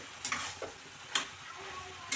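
Garlic, green chilli and onion paste stir-frying in a pan, a low sizzle broken by three crisp stirring scrapes at regular intervals, faint and close.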